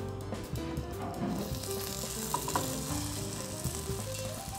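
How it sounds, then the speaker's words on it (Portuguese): A hamburger patty frying in a hot oiled pan gives a continuous close sizzle with faint spitting crackles and a low background hum throughout, and there is no talk. "a gente bota um pouquinho de óleo nela para poder fritar o hambúrguer"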